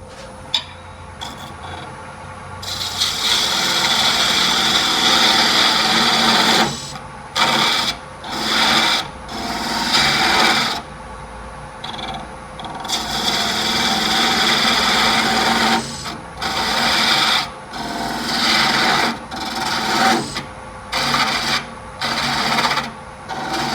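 Wood turning on a lathe: a small bud vase spindle shaped with a smaller spindle gouge, giving a steady loud rasping cut that breaks off and resumes repeatedly as the tool is lifted and reapplied.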